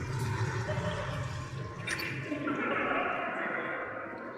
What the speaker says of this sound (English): Looks like a little waterfall.